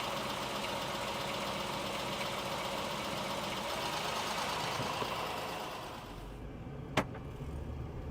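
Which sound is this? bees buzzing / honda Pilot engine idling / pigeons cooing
honda Pilot engine idling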